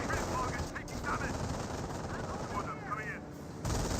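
Continuous crackle of gunfire in the Company of Heroes strategy game, a dense rattle of small-arms and machine-gun fire heard at a steady middling level throughout, with a brief louder pop near the end.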